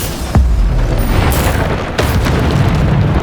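Bombarda spell blasts in the video game Hogwarts Legacy boom loudly, with a sharp explosive hit near the start and another about halfway through over a dense, rumbling roar.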